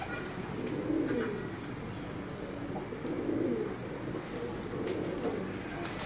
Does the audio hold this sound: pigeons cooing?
yes